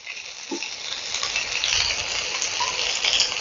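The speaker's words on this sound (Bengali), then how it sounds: "আলুটাকে একটু লালচে করে ভাজতে হবে" Potatoes frying in a pan, with a constant loud hiss and crackle of oil that builds slightly and carries on without a break.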